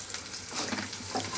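A paste of ground ginger, garlic and cumin sautés in a hot pan, making a dense, continuous sizzle as it is stirred, heard up close with no talking.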